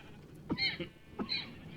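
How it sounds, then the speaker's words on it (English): Two short, dry coughs about half a second apart, close to the microphone, with quiet room noise around them. "all of a sudden you have to cough"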